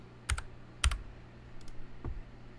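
A handful of sharp, separate computer keyboard key clicks, close and fairly quiet, spaced unevenly over a soft room hush with no voices.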